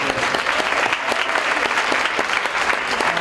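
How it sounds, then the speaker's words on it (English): Crowd applause at a mental health conference at Ames High, many hands clapping at once in a loud, sustained burst with individual claps flickering through. "They need a round of applause"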